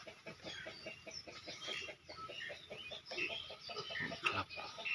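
Several chickens cluck in quick repeated bursts, fairly near but quiet, with scattered higher squawks mixed into the steady pecking rhythm.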